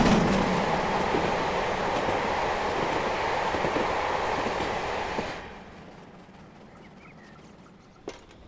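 An LMS Stanier 4P two-cylinder steam tank locomotive in Train Simulator runs with a loud, steady rolling rumble that fades sharply after about five seconds, then a single faint clank.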